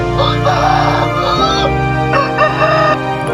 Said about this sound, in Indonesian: Suara ayam yang keras terasa sangat jelas.